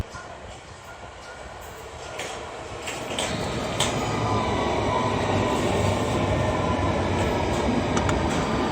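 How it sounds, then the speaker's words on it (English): A London Underground Metropolitan Line all-stations train to Aldgate pulls away from the platform, its rumble growing louder and steadier as it gathers speed, with faint clanks and rattles over the top. "This is an all-station Metropolitan Line train to Aldgate."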